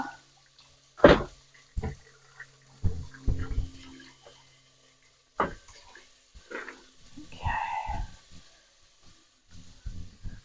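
Rocket and spinach leaves being drained over a kitchen sink in a veal and zucchini parmigiana cooking session, with scattered splashes, knocks and water bursts between quiet gaps.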